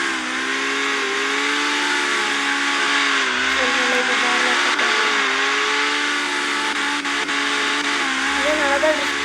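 A Z37 car in CarX Street drifts with its engine droning at a steady high pitch. The roar is loud and continuous, with slight pitch wobbles as the revs shift, and it runs alone with no talk.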